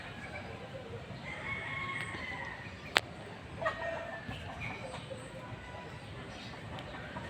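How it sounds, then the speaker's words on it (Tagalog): A rooster crows and hens cluck faintly in the distance over a steady outdoor hiss of breeze, with one sharp click near the middle. "Umiingay lang yung manok at saka yung simoy ng hangin"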